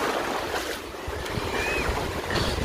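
Waves washing ashore at Azaiba Beach in Oman, a soft, fairly faint surf wash with some wind buffeting the microphone over a short stretch.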